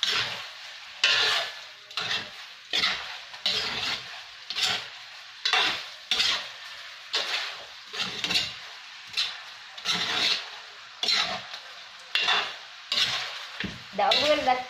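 Pork belly adobo is stirred in a pan in a regular rhythm of bursts, each scrape of the utensil followed by a rising sizzle that then fades, about a dozen strokes, near and clear with no speech.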